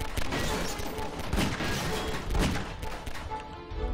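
Dense rapid gunfire in the Garry's Mod video game, a loud sustained fusillade of overlapping shots with heavier bursts partway through and no clear talking.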